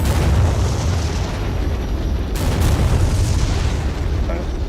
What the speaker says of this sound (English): Take out the last HQ, please. Because we got bombs coming in.